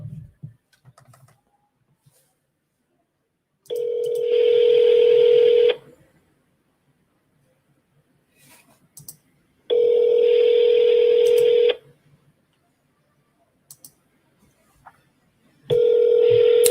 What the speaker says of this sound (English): She doesn't pick up the phone.